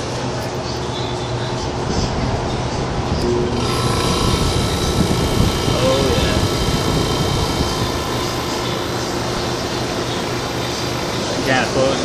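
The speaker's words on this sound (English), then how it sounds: "it's blowing, sucked in through here and blowing out through the vents" A 1963 Chrysler Imperial's Airtemp air conditioner blows through the vents with a steady, loud, close rushing whoosh that holds constant for the whole stretch, with a faint low hum beneath.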